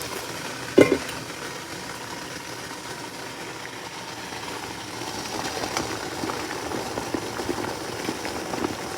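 Water boils beneath an idli maker steaming idli, a steady bubbling hiss with a sharp clink near the start, continuing evenly and growing slightly busier toward the end.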